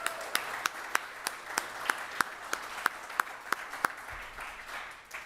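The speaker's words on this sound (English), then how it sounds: "Let's clap them out." Audience at an awards event giving applause with a sharp, regular clap sounding roughly every third of a second over a low crowd wash, moderately faint, ending after about four seconds.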